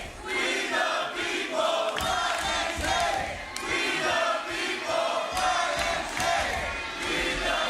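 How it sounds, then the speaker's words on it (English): A divided crowd at a professional wrestling match between Jack Swagger and Brian Cage at the Ocean View Pavilion keeps up loud, continuous cheering and rhythmic chanting, a dense roar that rises and falls in waves throughout. "a divided crowd at the Ocean View Pavilion"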